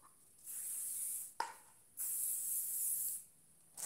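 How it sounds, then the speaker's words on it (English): Stronghold hairspray sprayed onto recycled Kanekalon hair extensions in two long hissing bursts, each lasting over a second, with a brief click between them and a third burst starting at the end, close and fairly quiet. "So I'm using Stronghold, okay? Stronghold hairspray."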